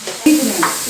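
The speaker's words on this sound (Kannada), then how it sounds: "ಬೆಳ್ಳುಳ್ಳಿ ಬಾಡೋದು" Chopped garlic frying in a pan for a coastal Karnataka fish curry made with giant trevally; a brief, close, steady sizzling hiss with a light stir, and no one talking.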